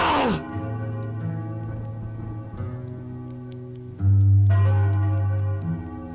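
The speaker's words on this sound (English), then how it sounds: "Ring the bell!" A deep, resonant alarm bell rings out in a stage production of Macbeth, a long humming tone that swells louder partway through, while a voice speaks at the very start.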